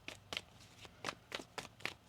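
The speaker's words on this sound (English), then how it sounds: "One more shuffle." Tarot cards are shuffled in quick riffled bursts, about seven crisp rustling strokes in a quiet room, close and isolated with no talking.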